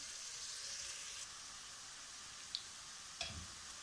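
Onions frying in a pan for chicken karahi give a steady, faint hiss, with two brief soft clicks toward the end.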